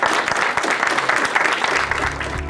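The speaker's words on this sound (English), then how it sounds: "Let's give another round of applause to our speakers." Audience applause for a panel of speakers at a talk, a dense burst of clapping filling the short span, loud and close.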